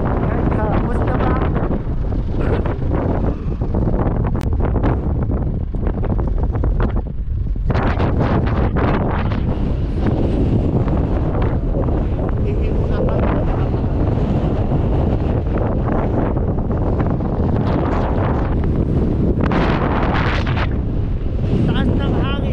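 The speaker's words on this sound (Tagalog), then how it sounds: "Taas ng hangin." Strong wind buffeting the microphone beside a road near Taif, a continuous loud roaring rumble with gusty bursts throughout, and people talking underneath.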